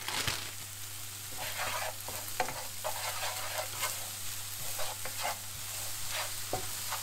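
Onions frying with a spoonful of brown sugar in a pan for a mince beef and onion pie, stirred steadily: a continuous sizzle under soft scraping strokes and a few utensil taps, with no talking.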